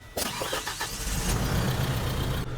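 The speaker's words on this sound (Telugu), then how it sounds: "ఇప్పుడైతే మనం ఒకసారి ఇంజిన్ క్రాంక్ చేద్దామండి" Tata LPK 1416 tipper truck diesel engine cranking briefly, then catching and settling into a steady, close, fairly loud idle, with no talk over it.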